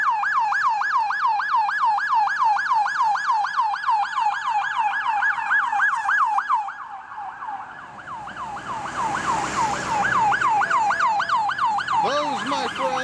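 Several emergency vehicle sirens wail in a steady, loud repeating cycle as they escort the football team buses on game day in Green Bay, dipping briefly before a second siren passes close by.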